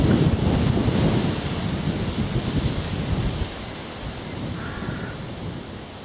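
Wind buffets the microphone on a countryside walk from Arundel to Amberley, a loud low rumble that eases partway through to a softer steady roar.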